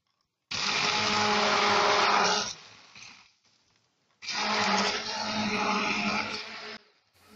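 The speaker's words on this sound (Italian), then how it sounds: "Con il frullatore ad immersione andiamo ad amalgamare bene questi ingredienti." An immersion blender whirs through caustic soda water and olive oil for homemade soap in two loud, steady bursts of about two seconds each, with a short quiet pause between them.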